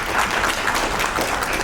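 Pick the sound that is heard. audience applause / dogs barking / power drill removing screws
audience applause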